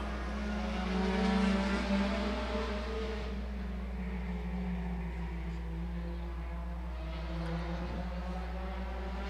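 Race cars on the final lap at Agassiz Speedway, a steady engine drone that swells early and then holds at a distance, with no talk.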